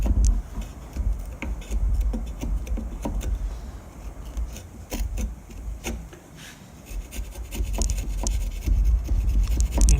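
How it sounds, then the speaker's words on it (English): A chisel scraping and paring at the corner of a wooden dovetail joint, a steady rough rubbing with short scratchy strokes close by, no talk. "I'm going to take the chisel and I'm going to clean that up."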